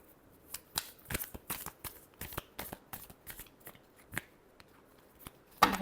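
Tarot cards are shuffled by hand in a close, crisp series of quick riffles and slaps, irregular in rhythm, ending with a sharper burst as the deck comes together.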